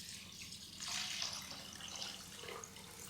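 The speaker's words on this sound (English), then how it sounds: "And then 3 cups of water." Three cups of water poured into a pot for elderberry syrup with ginger, a soft, faint splashing pour lasting a few seconds with a gentle rise and fall.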